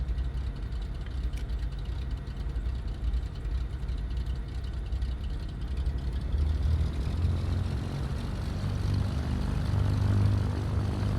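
Twin-engine Cessna 310R in a flight simulator, propeller engines droning steadily and loudly on the runway, the roar gradually building as it takes off, with no voices.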